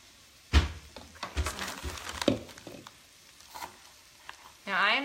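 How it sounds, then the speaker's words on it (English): Vegetables sizzling and crackling as they sauté in a hot pan, with stirring clatter and a few bumps, fairly close and moderately loud. "Throw in here while that sautés."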